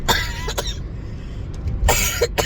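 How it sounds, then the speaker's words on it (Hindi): Coughing from a woman close up, several harsh bursts in two clusters separated by a brief pause, loud and alone. "ये खांसी मुझे बोलने नहीं देगी"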